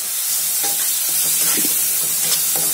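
Spices and Kashmiri chili powder sizzling in hot oil for mustard hilsa, a loud close crackling fry with stirring scrapes throughout.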